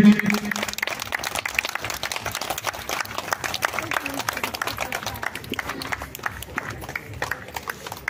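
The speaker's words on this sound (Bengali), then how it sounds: "জোরে, একটু জোরে সবাই মিলে করতালি দেবেন।" An audience at a Saraswati Puja event claps in a sustained patter of scattered applause, moderately loud, with a voice on a loudspeaker at the start.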